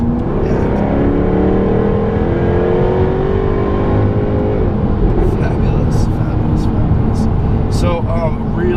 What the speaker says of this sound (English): this Jaguar F-Type R's supercharged V8 is definitely in the baritone speaking range